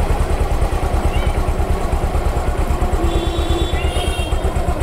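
Motorcycle engine running steadily in first gear as a beginner rider pulls away, a close, continuous mid-pitched rumble with rapid pulsing and light mechanical clatter throughout.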